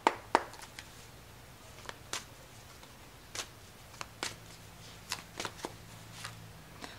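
Tarot cards shuffled by hand in a quiet room, a series of soft, crisp riffling snaps and brushes spaced irregularly over several seconds, close and fairly faint, with a low hum underneath.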